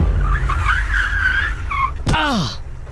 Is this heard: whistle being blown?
no